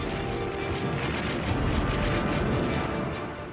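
Heavy naval and artillery bombardment of an Okinawa beach before an amphibious landing, a dense continuous rumble of blasts and booms layered together, loud and low, with no single shot standing apart.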